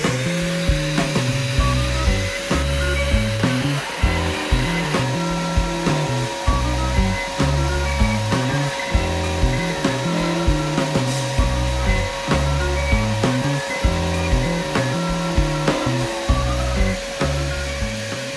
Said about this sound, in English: I'm going to be using my Mastercraft belt disc sander here.